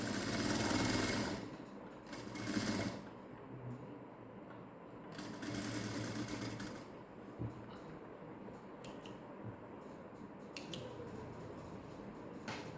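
Soft, intermittent bursts of a sewing machine stitching the side of a blouse lining fabric, quiet and somewhat distant, with small handling clicks between runs.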